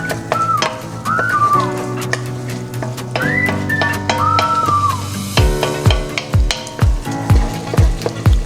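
Food fries in a pan with a steady, loud sizzle throughout, accompanied by whistled melodic tones and, in the latter half, a run of rhythmic thuds.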